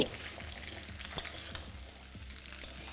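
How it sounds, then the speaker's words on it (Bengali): Drumstick pieces and potatoes frying together in a pan make a soft, continuous sizzle with occasional stirring clicks and scrapes, fairly quiet and close, with no talking. "এবার দিয়ে দেবো সজনে ডাঁটাটা। তারপর এটাকে আমি আলুর সাথে ভালো করে একটু ভেজে নেব।"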